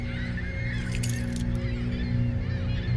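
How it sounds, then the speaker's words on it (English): Birds honk and cry out, goose-like, in an indie horror video game set around a lighthouse, several calls layered over a steady low droning ambience with no voices. "The birds are crying out because they lost one of their brethren."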